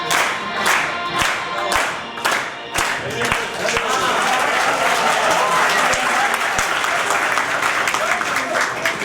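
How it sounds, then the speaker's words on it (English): An audience at a college alumni meet for the 1972 batch's golden jubilee claps in a dense, sustained round of applause that starts with a few sharp claps and builds to steady crowd clapping, with voices faintly underneath. "A big round of applause for all these fellows."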